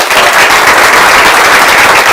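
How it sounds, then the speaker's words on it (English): A board meeting audience breaks into loud, dense applause for a staff member named Mary, steady close-up clapping from many hands filling the whole stretch with no talk. "Let's give her a round of"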